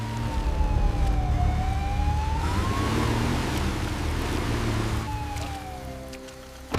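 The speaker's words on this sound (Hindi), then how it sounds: "ये एम्बुलेंस पुलिस की नहीं है," An ambulance siren wails with a slow rising and falling tone over steady traffic or rain noise, fading midway and then returning loud and close.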